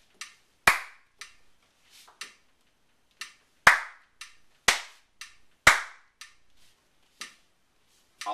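Sharp hand claps ring out alone in an uneven rhythm exercise, several loud strong claps mixed with softer, lighter ones and short rests between them, close and dry.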